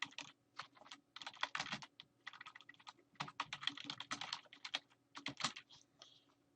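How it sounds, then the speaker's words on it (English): Rapid clattering keystrokes on a computer keyboard in bursts with short pauses, close and clear with a low steady hum underneath and no voices. "type in this information and click continue"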